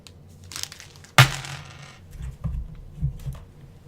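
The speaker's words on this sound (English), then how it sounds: "Set of fate dice, colored fate dice," Colored fate dice tumble from a board game box onto a table, a sharp clatter of small plastic cubes followed by a few softer rattles and knocks, close and fairly quiet.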